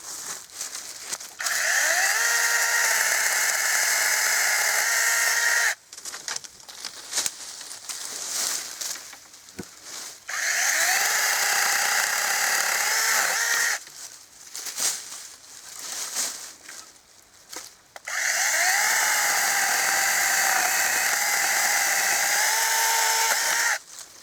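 A PROCRAFT PKA 44 mini chainsaw cuts wood in three loud, sustained bursts of high revving, each lasting a few seconds, separated by quieter idling and pauses.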